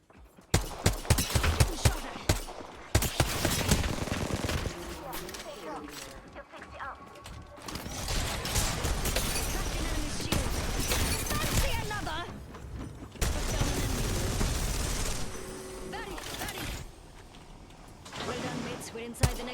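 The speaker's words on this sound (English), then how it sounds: "Getting shot at." Gunfire crackles in a multiplayer battle-royale shooter, repeated bursts and volleys running through a busy mix of game sound while players talk over it.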